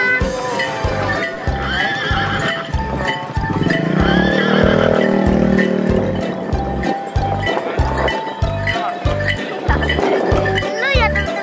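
A delman horse cart at Setu Babakan in Indonesia, with a horse whinnying loudly over steady, evenly spaced clip-clop hoofbeats, heard under a children's song and music.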